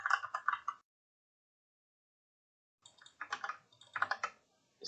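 Someone types on a computer keyboard in two quick bursts of close, crisp key clicks. A silent pause of about two seconds separates the bursts.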